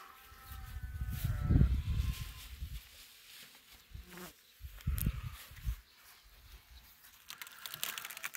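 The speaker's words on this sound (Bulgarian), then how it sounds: "Пчели." Honeybees buzz around an open beehive outdoors in June, with a steady drone mixed with gusty wind rumble and handling noises from the hive, and no talking.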